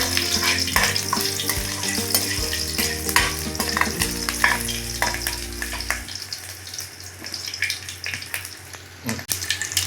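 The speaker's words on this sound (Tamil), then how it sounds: "2 பச்சை மிளகாய் சேர்க்குறேன். இது எல்லாம் நல்லா ஃப்ரை ஆகட்டும்." Curry leaves and two green chillies frying in hot oil in a pan, a steady close sizzle broken by sharp spattering pops and scraping stirs, with no voices.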